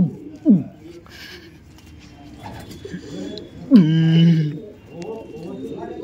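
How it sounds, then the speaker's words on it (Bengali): Pigeons coo nearby in a few low, throaty bursts: a short one early, then a longer rolling coo midway, over faint background noise. "এ হচ্ছিল পায়রা"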